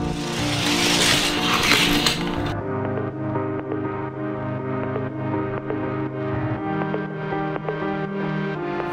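A Hot Wheels McLaren 720s toy car races down a track in a top speed test, a loud rush and rattle at first, then a steady whirring, clattering run that stays close.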